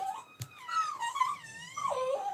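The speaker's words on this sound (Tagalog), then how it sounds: "Maingay yung aso." A dog whines and moans in long, rising and falling wails, fairly close and clear, with a brief sharp sound early on.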